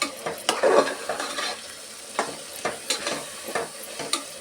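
Spice masala frying in oil for a lentil biryani, stirred with a spoon: soft sizzling under repeated scraping strokes against the pan, arriving in an uneven rhythm with no talking.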